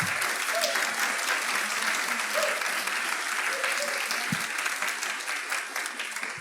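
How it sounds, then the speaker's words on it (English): A crowd applauds a faith leader panel at a Houston community kick-off event, with loud, even clapping from many hands sustained throughout and tapering slightly at the end, plus a few faint voices underneath. "one more round of applause for they were great, right?"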